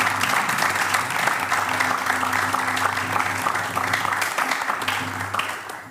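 An audience at a televised gospel choir broadcast applauds steadily for several seconds, a dense wash of clapping that fades at the end, with faint background tones beneath.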